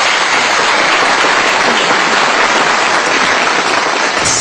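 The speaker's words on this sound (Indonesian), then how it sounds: "Tepuk tangan dulu dong." Studio audience applause on an Indonesian televised Ramadan preaching competition, loud, dense and continuous clapping filling the whole stretch without a break.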